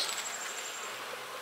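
Honey bees buzzing at an open hive during queen-rearing work, a soft continuous swarm drone with a single bee's higher whine passing close, faint and steady, no talk.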